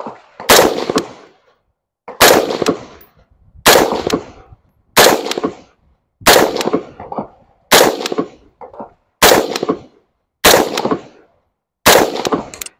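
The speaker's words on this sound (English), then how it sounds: "I'm just going to simply fire 30 rounds and show you the practical accuracy with iron sights." A rifle fires with iron sights, each shot a loud, sharp close-range crack. Nine single shots ring out at a steady pace of roughly one every one and a half seconds, each followed by a short decaying echo.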